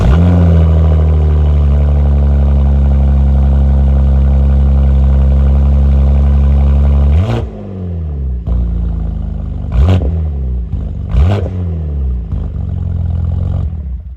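A 2025 BMW M2 with a louder aftermarket exhaust idles with a deep, loud drone, then gives several sharp blips of the throttle that rise and fall in quick revs.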